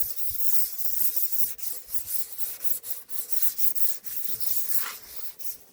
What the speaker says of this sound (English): just a quick sand, just swirling motion like that